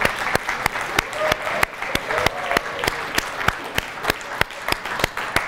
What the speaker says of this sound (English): please stand up, we'll give them a round of applause